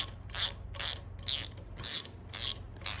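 Clamps on a rail bender jig being tightened, giving a run of six evenly spaced ratcheting clicks over a low steady hum, close and moderately loud, with no talking.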